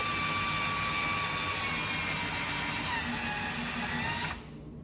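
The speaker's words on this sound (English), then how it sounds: "now I'm gonna go back through and drill through" A loud, steady high-pitched drill whine runs continuously for several seconds while drilling through a car spoiler, then cuts off abruptly near the end, leaving quiet.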